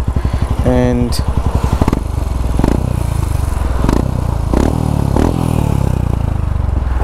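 A Royal Enfield Himalayan motorcycle with a new PoweRage exhaust rides through city streets. The exhaust gives a loud, close, throaty burble with repeated revs and surges as the throttle opens and closes.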